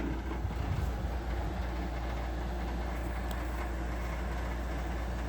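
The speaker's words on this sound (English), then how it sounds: "that little rattling noise you hear is the vent damper in there that's broken." A garage air conditioner runs as a constant broadband roar with a low hum. A broken vent damper inside it adds a faint irregular rattle under the steady noise.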